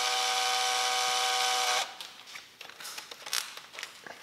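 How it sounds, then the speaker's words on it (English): A power drill bores holes into the front of an Alfa Romeo Giulia Ti, giving a steady high whine for under two seconds that cuts off, followed by scattered light clicks and handling knocks. "Drilling holes"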